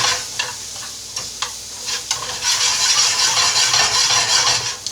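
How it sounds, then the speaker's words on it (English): Flour and seasoning being stirred in a pan for shrimp etouffee: irregular scraping clicks at first, then a steady loud sizzle with continuous stirring close by. "What we're going to do is just kind of stir all this around, get the flour soaked in."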